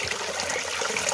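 A small waterfall spills over a dense network of plant roots, giving a continuous bright splashing and trickling wash that stays even and close throughout.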